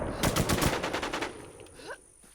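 Automatic gunfire in a shooting video game, one rapid burst of close, loud shots lasting about a second, then quickly fading away.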